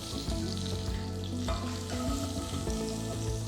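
Chopped garlic, about eight cloves, frying in a pan over lowered flame, a steady dense sizzle and crackle with occasional stirring scrapes, close and continuous.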